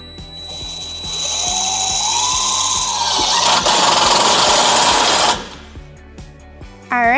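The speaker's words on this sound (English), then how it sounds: "We are going to use a 4-flat mounting bracket with our provided self-tapping screws." Power driver sinking self-tapping screws into a 4-flat wiring mounting bracket near the hitch of a 2006 Chevrolet Colorado, a loud sustained whirring run of about four seconds that stops abruptly, then a brief second burst.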